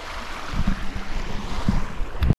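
The Little Piney River in Mark Twain National Forest flows in a steady wash, with some wind buffeting the microphone and a few low thumps, heard close without talk.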